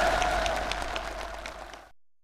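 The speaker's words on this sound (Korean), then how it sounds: "폭풍 같은 만세 환호를 터쳐올렸습니다" A large crowd at a ceremony applauds in a dense, sustained burst of clapping mixed with cheering, close and loud before cutting off abruptly.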